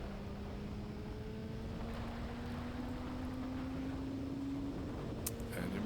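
MV Agusta sport motorcycle on a racetrack, throttle held steadily open through a constant-radius turn: a continuous engine drone with a slowly rising pitch under wind noise, no talking.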